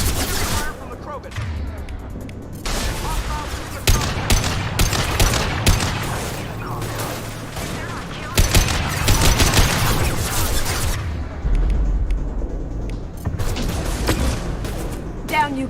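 Sustained automatic weapon fire in a Mass Effect 2 battle against Krogan, with dense bursts of shots and booms rising and falling in intensity, loud and close, punctuated by sharper volleys and occasional mechanical clanks.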